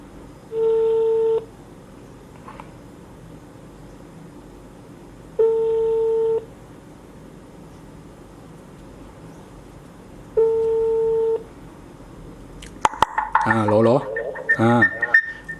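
Ringback tone heard when dialing into a GPS car tracker: three steady tone bursts about five seconds apart, each lasting about a second, over quiet background hiss, followed by a burst of clicks and warbling noise as the call connects.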